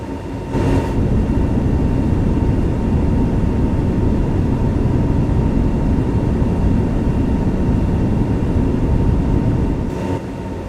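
Simulated Airbus A321neo engines hold climb thrust in the X-Plane 12 flight simulator, a loud steady broadband roar with a faint whine that continues unbroken throughout, no talk.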